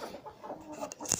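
Mixed-breed village hens, including silver Adler, red birds and white Leghorns, give a few short, soft clucks that sit close but fairly quiet over a low farmyard background.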